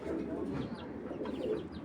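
Soft, low pigeon coos murmur up close through a short stretch, rising and falling in a steady rounded rumble, from a large, well-coloured racing pigeon kept in a Rajshahi loft.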